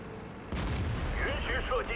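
Tank gunfire in World of Tanks: a sudden heavy boom at the half-second mark, then a sustained rumbling tail with whistling game effects and faint speech underneath.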